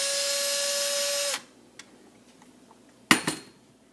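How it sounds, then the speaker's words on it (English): A power drill fitted with a carbide hole saw runs steadily for over a second, then stops abruptly; a couple of sharp clunks follow as the tool is set down or the cut piece is removed. "You just put your carbide saw into your power drill, tighten it up, put it over your hole, or where you want your hole to be drilled,"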